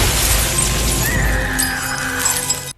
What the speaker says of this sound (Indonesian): Karena teriakan Ellie, semua lampu menjadi pecah.